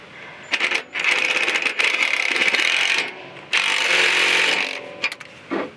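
A ratchet tightens the intercooler boot clamp on a 2.7L Ecoboost truck, giving loud, close bursts of rapid clicking in several runs with short pauses between them.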